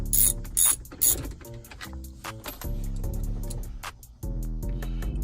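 A ratchet wrench clicks rapidly in bursts, close and loud, while backing out a screw from the radio panel of a Chevrolet Tahoe, pausing between strokes with faint mechanical rattles.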